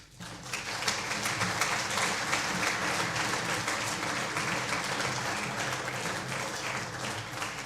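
Sustained audience applause fills the room at the close of an evening civil engineering lecture on Swiss motorway network maintenance, dense and steady throughout with no speech over it.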